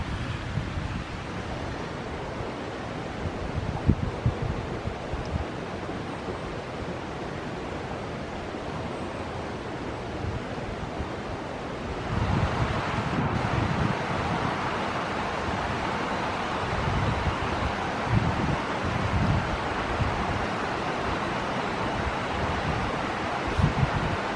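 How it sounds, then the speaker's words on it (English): Two small streams flow together in a wooded nature preserve in spring, giving a steady broadband rush of water that grows a little louder partway through, with no talking. "There's two little streams join in."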